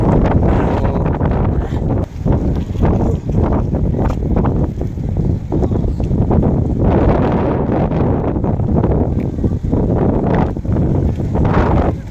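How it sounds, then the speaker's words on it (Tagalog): Strong wind buffets the microphone with a loud, continuous roar, gusting up and down throughout. "Medyo sinabayan kasi ng malakas na hangin tong ating pag-akyat ngayon"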